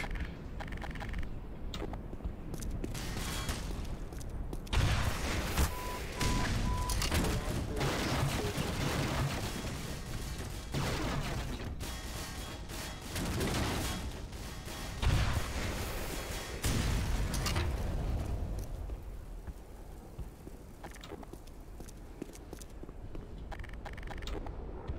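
Tank combat in Black Mesa's Surface Tension chapter: repeated heavy gunfire and booming explosions, with loud blasts around the middle and a calmer, thinner stretch near the end.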